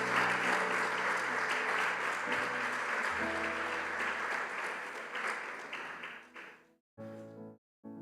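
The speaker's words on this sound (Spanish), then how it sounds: "Denle un fuerte aplauso a Dios" Church congregation applauding during a Spanish-language sermon, loud sustained clapping with a low musical hum beneath, fading out toward the end before brief bursts of sound return.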